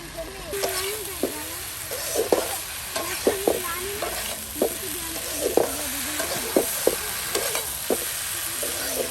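Spatula scraping and stirring through a frying pan as spice paste is worked into dried fish cooked with taro stolons, repeated scraping strokes over a steady sizzle, fairly close.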